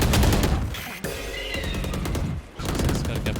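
Rapid automatic gunfire rattles in a Valorant match. Dense, loud bursts of shots come up close, break briefly twice, then pick up again, with no voices over them.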